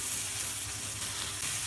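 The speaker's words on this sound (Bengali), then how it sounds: "আমি মাছের তেলের ভিতরে পটল আলুগুলো ভেজে নেব।" Pointed gourd and potatoes frying in fish oil give off a steady, dense sizzling hiss, close and continuous throughout with no speech.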